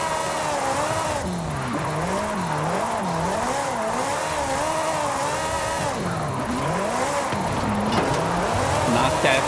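Ferrari GTO in Forza Horizon 5 drifting, its engine rising and falling in wavering revs with tire squeal throughout, loud and close, under continuous talking.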